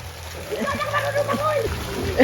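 Water splashing from someone swimming in a resort pool in Tagaytay, soft irregular sloshes under a voice speaking throughout.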